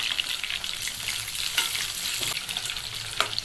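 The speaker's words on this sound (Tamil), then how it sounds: "இந்த மாதிரி எண்ணெயோட சலசலப்பு அடங்கினோடனே இதை வெளியில் எடுத்துருங்க" Pieces of chicken 65 fry in hot oil, giving a loud, dense, continuous sizzle and crackle close up, with occasional brief stirring scrapes and no voices.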